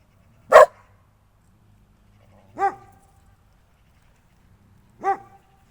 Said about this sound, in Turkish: Evet, süslünün havlaması.